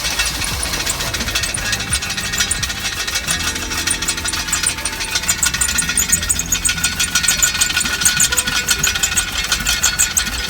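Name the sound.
small car engine running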